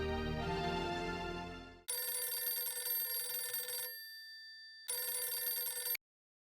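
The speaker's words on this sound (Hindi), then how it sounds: "मैं एक मिनट सोडी को फिर से फोन लगाता हूँ।" A telephone rings with a bright electronic trill, in two long bursts separated by a brief gap, heard clearly and alone.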